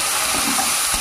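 Oil sizzles steadily as cardamom pods, bay leaves, tomatoes and onions fry in a pan, a loud, continuous hiss with faint stirring scrapes and no voices.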